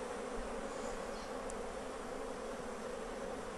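Honey bees buzz around an open Flow Hive during a colony split, a steady, dense hum that stays close and even throughout with no voices.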